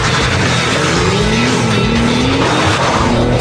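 A Porsche 911 GT2 launching hard under launch control from about 5,000 rpm, its engine note loud and close with rising pitch, accompanied by tire squeal or skid noise.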